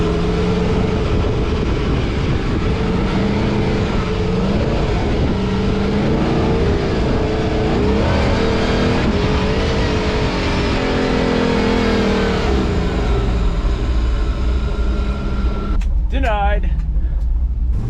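A vehicle with freshly swapped dual batteries is test driven downhill over snow, giving a loud, steady engine and road drone throughout, with wind-like rumble and a brief squeal near the end.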